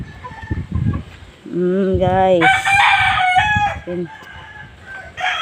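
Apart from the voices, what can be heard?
many chickens and roosters crowing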